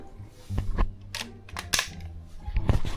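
Toy gun bought from Temu firing several sharp cracking pops, a couple of closely spaced shots and then another burst near the end, loud and close amid low room noise.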